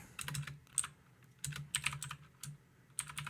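Bursts of quick clicking keystrokes on a computer keyboard, typed in short clusters with brief pauses between, fairly close and fairly quiet.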